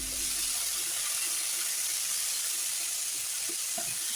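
Flat beans and potatoes frying in a pan produce a steady, close hissing sizzle, with a faint hum at the start and a few soft stirring sounds near the end.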